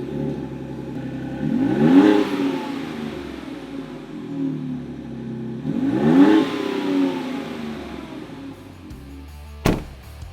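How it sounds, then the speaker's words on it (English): A 2021-2022 Ford Bronco Wildtrak with a Flowmaster American Thunder axle-back exhaust blips twice from a low idle. Each rev is a sharp, rising growl that falls back, and a brief click comes near the end. "Let's see what our Wild Track Bronco sounds like with our new American Thunder Series axle back kit on there."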